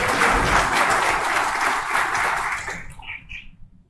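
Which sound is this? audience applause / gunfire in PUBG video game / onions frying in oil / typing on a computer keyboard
audience applause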